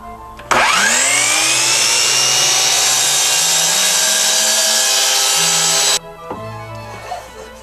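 A power saw cuts a tenon shoulder in wood for a mortise and tenon joint, a loud, close, continuous whining cut that spins up sharply, holds steady for about five seconds, then stops and winds down.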